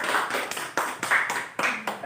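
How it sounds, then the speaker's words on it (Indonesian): A small classroom group claps for a student in a primary-school lesson, several distinct bursts of hand claps in an uneven rhythm, fairly close and moderately loud, with no voices over it. "Beri tepuk tangan kepada Tira."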